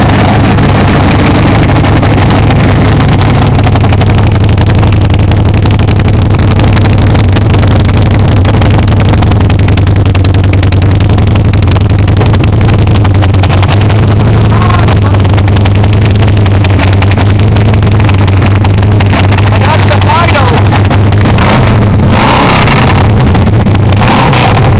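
A 2006 Suzuki Hayabusa 1300 Limited motorcycle engine running loud and close, a heavy continuous drone with rough wind-buffeted noise throughout.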